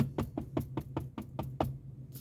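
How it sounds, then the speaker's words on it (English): Sharp knocks land on a door in a quick, slightly uneven series of about nine close raps, followed by a short pause and one more knock at the end. "Knock again."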